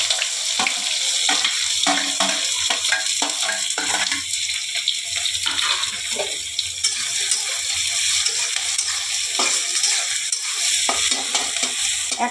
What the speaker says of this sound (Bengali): বন্ধুরা, এবারে পেঁয়াজ কুচিগুলো দিয়ে দিলাম।